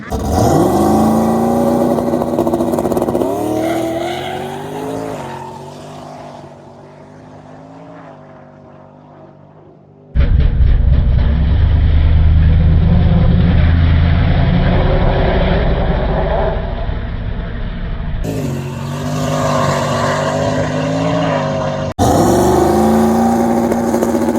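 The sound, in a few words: drag race cars racing at a no prep event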